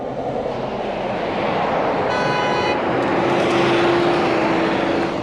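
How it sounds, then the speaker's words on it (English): A Lamborghini sports car passes on a street in Mill Valley, California, a steady broad engine and tyre roar that builds and holds loud throughout, with a brief tonal whine partway through. "There goes a Lamborghini."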